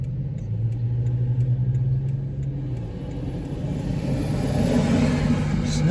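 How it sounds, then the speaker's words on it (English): A snub-nosed school bus rolls past, its low engine rumble and a steady mid-pitched drone dropping off partway through as the vehicle moves by, with no talk over it. "Snub-nosed school bus."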